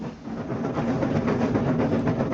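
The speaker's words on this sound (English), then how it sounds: "On the main line, Thompson was having a grand time pulling his goods train." A model steam engine pulling a goods train chugs along the main line, a steady rhythmic puffing and rumbling of wheels, continuous and fairly loud without talk.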